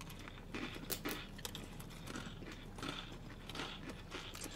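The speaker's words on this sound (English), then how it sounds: "Got me some crunch action going." Crunchy bites of spicy ramen noodles and Takis chips, heard as quiet, uneven bursts of crunching and chewing close up, with no talking.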